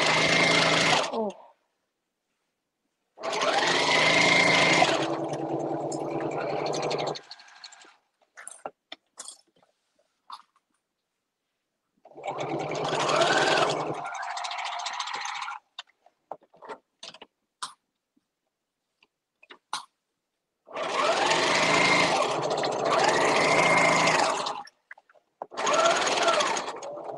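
A sewing machine stitches a binder cover in several loud, close bursts of rapid mechanical chatter separated by pauses filled with small handling clicks and fabric rustles.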